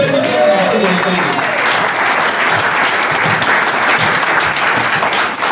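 A church congregation bursts into sustained applause, dense and loud clapping from a large crowd that fills the whole stretch, with voices mixed in underneath.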